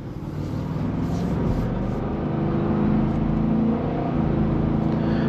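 A 2023 Ford F-250 XL single cab pickup with a 6.8L V8 accelerating, a steady deep engine drone from inside the cab that builds slightly and holds throughout.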